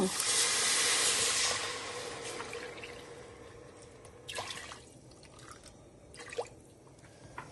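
A burst of rushing, hissing water poured into a cooking pot at the start, then quieter drips and faint clinks in a calm kitchen.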